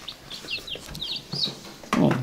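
Young chicks peep in a series of high, quick chirps, several short calls in irregular succession, ending with a louder rustling burst.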